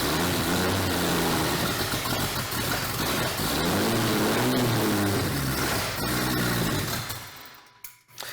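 An old carbureted car engine fed a squirt of fuel roars at high, fluctuating revs as the throttle is blipped, its pitch rising and falling, loud and close, before it cuts off near the end.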